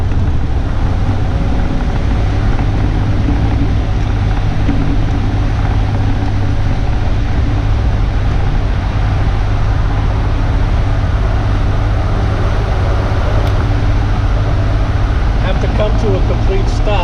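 A 1967 Austin Healey 3000 MK3 BJ8, recently restored and running, idles high at a steady low rumble with constant engine drone throughout, recorded up close with some wind buffeting the microphone.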